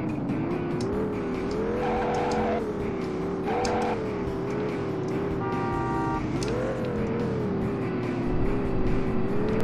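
Car engines drone and rise in pitch as tires squeal briefly, with a short horn toot in the middle amid continuous road noise, in the PS1 driving game Driver 2.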